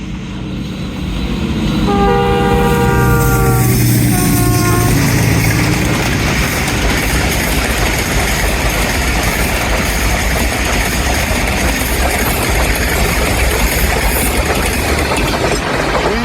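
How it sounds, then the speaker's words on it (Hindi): The Jaffar Express, led by a ZCU20 diesel locomotive, sounds its horn in several long blasts on approach, then thunders past at full speed near a curve at Kaluwal station, a loud, steady roar of rolling wheels and carriages. "40 डाउन जाफ़र एक्सप्रेस आ रही है, अभी कर्व से अपेयर होगी। ZCU20 इसकी लीड पे लगा हुआ है"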